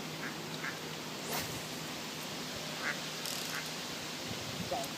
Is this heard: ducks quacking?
yes